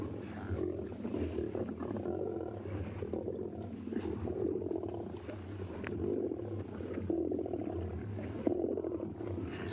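Lions feeding on a kill, with deep continuous growls and roars rumbling close and loud throughout, layered with tearing and chewing noises and no talking.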